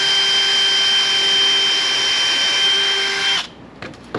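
A power drill whines steadily at high speed while pre-drilling screw holes in wood for a DIY truck bed slide, then cuts off abruptly near the end, leaving a few faint clicks.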